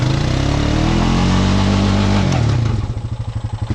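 A Honda Rancher ATV engine revs hard while its wheels spin in mud, a loud sustained roar that drops in pitch and then breaks into a pulsing, chugging rhythm near the end.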